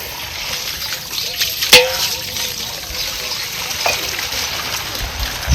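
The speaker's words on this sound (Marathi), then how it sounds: "चांगली मोकळ्या पाण्यात आपल्याला खळखळ अशी धुवून घ्यायची" Water sloshes and trickles steadily as ghol bhaji (purslane) greens are swished and rinsed, with a brief louder splash partway through; no talking.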